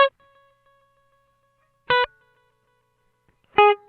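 BOSS RE-2 Space Echo delay pedal with the echo volume turned down: three short plucked guitar notes, each followed by only a faint, thin repeat that fades quickly into silence.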